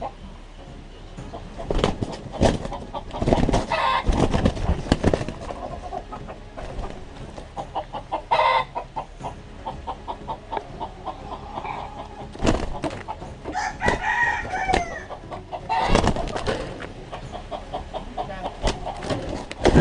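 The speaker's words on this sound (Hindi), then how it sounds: "देखा तो यहां मुर्गों की लड़ाई चल रही थी।" Roosters at a rural cockfight in a Bastar forest market crow and cluck repeatedly amid a gathered crowd, with overlapping bird calls, bursts of crowd noise and occasional voices.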